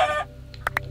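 A chicken in Minecraft gives a burst of clucking followed by two short sharp clucks, close and distinct against a quiet, low background hum.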